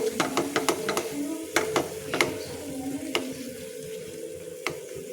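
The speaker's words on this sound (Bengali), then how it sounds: "ক্রমাগত এটা নাড়তে হবে যতক্ষণ না পাকটা হয়" Mango sandesh mixture stirred continuously in a pan, with repeated sharp knocks and scrapes of a spoon against metal over a low cooking hiss, close and moderately loud.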